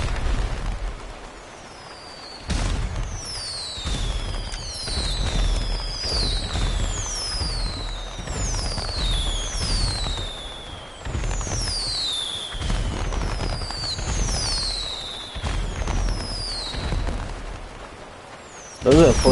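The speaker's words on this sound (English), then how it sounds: "Those are 4th of July fireworks still." Fourth of July fireworks burst in GTA Online, with rising whistles followed by steady crackling pops and booms throughout. A voice talks over the display.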